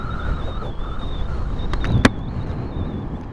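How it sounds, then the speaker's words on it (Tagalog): Steady wind rushing and buffeting across the microphone while riding a Kymco Like 125 scooter during a storm, with a faint high whine running through and a brief louder gust near the middle; no one speaks. "So yun, lakas ng hangin."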